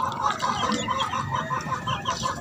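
Chicks peep and cluck softly in a steady, busy chorus, close by and continuous, with no talk.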